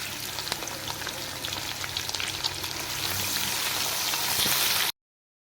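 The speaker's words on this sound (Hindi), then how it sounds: "हमने प्याज को हल्का सा ब्राउन कर लेना है।" Chopped onion sizzling in hot oil with curry leaves and cinnamon for aloo matar pulao, a steady close crackle and hiss that grows slightly louder before cutting off abruptly.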